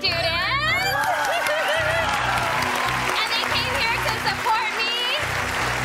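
Students from a hip hop dance class cheer and applaud from a game show studio audience, a steady wash of clapping with whoops and shouts throughout, people talking underneath.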